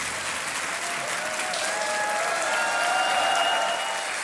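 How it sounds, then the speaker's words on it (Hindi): Studio audience of a television quiz show applauding a contestant's win, a broad, continuous roar of clapping that holds steady and swells slightly toward the end, with no voices on top. "तालियां बजती रहनी चाहिए देवी और सज्जनों।"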